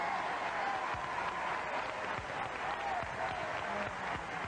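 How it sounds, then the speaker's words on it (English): Studio audience at a television game show applauding as two contestants are welcomed, a steady even wash of clapping heard at a slight distance, sustained throughout. "Would you all join me in a brisk round of applause"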